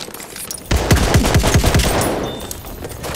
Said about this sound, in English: Machine gun! Watch it, boys!